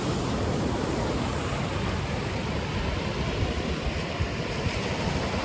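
Waves and surf at Diamond Beach in Iceland, a steady loud roar of breaking water with wind buffeting the microphone throughout, no voices.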